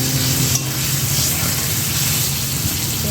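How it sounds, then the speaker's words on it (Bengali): Pointed gourd (potol) frying in oil in a home kitchen, a close, steady sizzle with stirring sounds throughout. "পটলটা ভাজছি"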